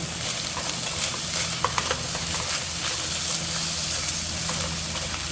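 Sliced potatoes for a Korean side dish sizzle steadily in a hot pan as they are stirred, with a constant frying hiss and faint scraping close by.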